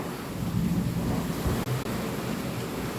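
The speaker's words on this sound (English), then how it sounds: "Okay, so that was thunder, guys." A thunder rumble rolls through a steady storm wash with rain, heavy low-frequency booming building to a sharp crack partway through, then the rumble continuing; no talking.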